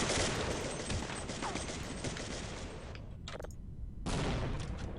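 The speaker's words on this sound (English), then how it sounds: "That was his own grenade." Gunfire and a grenade explosion in a video game, heard as dense, loud bursts of rapid fire that fill most of the stretch, with brief lulls before another heavy volley.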